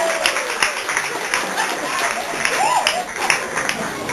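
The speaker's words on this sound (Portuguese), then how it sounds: "palmas." Applause rises from an audience at a church retreat sketch performance, a dense patter of many clapping hands with some crowd murmur and voices mixed in.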